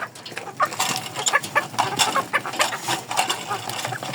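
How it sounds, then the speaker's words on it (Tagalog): Backyard chickens cluck and squawk in quick, overlapping bursts while being fed, several birds close by and fairly loud, with no talk. "Mga kaidolo, tara magpatuka tayo ng manok."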